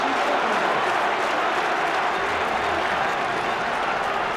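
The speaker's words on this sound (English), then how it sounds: "Listen to the crowd here at the Stadio Flaminio" A large rugby crowd at Stadio Flaminio roars and applauds in a dense, continuous wash of cheering and clapping, filling the whole moment at steady loudness.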